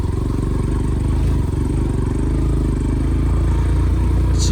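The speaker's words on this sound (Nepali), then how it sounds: "अलि चिसोको कारणले पनि गाडीहरूले बाइकहरूले तान्दो रहेछ क्या।" Motorcycle engine labouring hard in cold weather on a mountain road, a steady low throbbing drone that holds at a constant loud level throughout.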